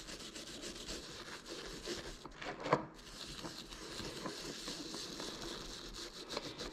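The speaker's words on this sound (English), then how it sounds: "So I have a little stainless steel brush here. And I'm just going to apply some pressure." A small stainless steel brush scrubs carbon deposits off an engine piston, giving a soft, continuous gritty rubbing with one brief louder scrape partway through.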